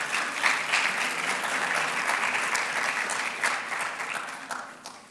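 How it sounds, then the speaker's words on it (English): Sustained applause from an audience at a 2023 College of Medicine and School of Graduate Studies awards ceremony, a steady, dense wash of clapping filling the hall for a full five seconds with no voices over it. "Another round of applause for Dr."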